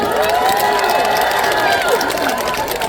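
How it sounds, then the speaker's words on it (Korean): A festival opening crowd at an outdoor stage performance claps and cheers loudly and steadily, with shouting voices blended into the continuous roar. "다시 한번 큰 박수 쳐주시오"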